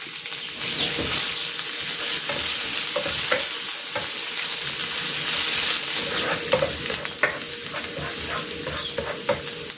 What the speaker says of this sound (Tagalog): Igigisa ko na tong bawang. At itong sibuyas.